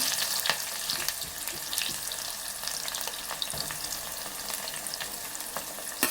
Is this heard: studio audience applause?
no